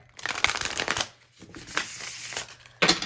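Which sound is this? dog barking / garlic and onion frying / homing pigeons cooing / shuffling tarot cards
shuffling tarot cards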